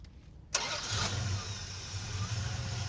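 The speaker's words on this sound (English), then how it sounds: "Starting the motor." A 1971 Plymouth Duster engine cranks and fires up abruptly, then settles into a steady, rumbling idle with a low throbbing note close by, no talk over it.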